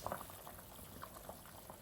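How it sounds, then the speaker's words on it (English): A pot of egg curry with koftey andey simmering at a gentle boil under a lid, faint soft bubbling and gurgling close by with a few small pops. "So just going to pop the lid on, bring that to a gentle boil"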